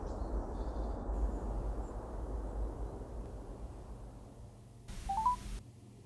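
Telephone number being dialed, a short run of DTMF keypad tones near the end over a low, steady background hum, with no voices.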